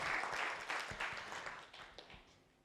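Applause from a summit audience at a celebration event, a steady wash of clapping hands that fades gradually over a few seconds, fairly close with no talking.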